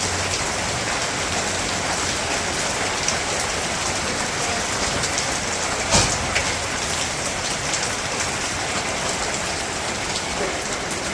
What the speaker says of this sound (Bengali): হাই যে বৃষ্টি রে